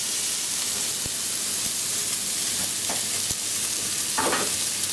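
Fish and noodles sizzle steadily in a hot pan during a stir fry, a loud, close hiss that never lets up, broken by a few soft taps and scrapes of a utensil.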